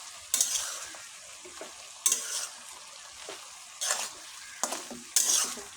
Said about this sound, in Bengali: সবজিটা এখন আমি ভালোভাবে নাড়াচাড়া করে নেব।